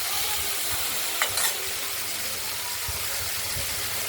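Steady sizzling of thin-sliced pumpkin frying in oil with mustard seeds in a kadai, a continuous hiss with a brief scrape of stirring partway through.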